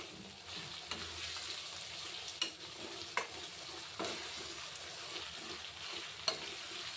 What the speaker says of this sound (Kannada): ಒಂದು ಅರ್ಧ ಫ್ರೈ ಆದರೆ ಸಾಕು ಟೊಮೆಟೊ.